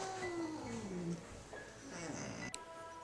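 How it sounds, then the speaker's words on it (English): A cat meows loudly during a psychic reading: a long, drawn-out call that slides downward in pitch, followed by a couple of shorter meows. Quiet room noise sits underneath. "What is with the cat?"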